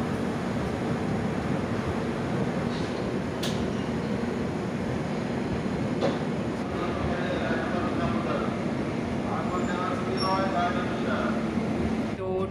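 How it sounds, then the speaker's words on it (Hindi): The Chennai Mail Express pulls out of Kharagpur station on its Howrah to Chennai Central run, a steady close rumble and clatter of the rolling train, heard from on board with no voices. "हम लोग की ट्रेन खड़गपुर से डिपार्ट कर रही"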